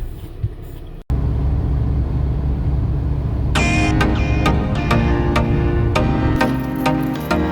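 Car ride heard from inside the cabin on the way to a hammam in Turkey, a steady engine and road drone with a sharp knock early on, then rapid clicking and rattling bursts over the hum.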